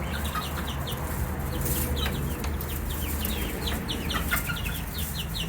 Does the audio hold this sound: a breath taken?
no